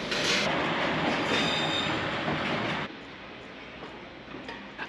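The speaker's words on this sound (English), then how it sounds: "here's our Class 310 Pendolino completing its inbound working from Maribor" An SŽ Class 310 Pendolino tilting train arrives inbound from Maribor, a loud rushing rumble of wheels and carriage noise passing close by that drops suddenly to a quieter rolling hum as it slows.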